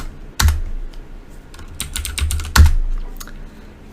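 Commands are typed on a computer keyboard in bursts of close, crisp key clicks, with a few heavier thumps, likely the space bar or Enter key.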